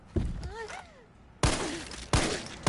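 Gunfire in Resident Evil 3: three loud, sharp shots spaced about a second apart, the first preceded by a short burst of voice-like sound and a few tonal squeals.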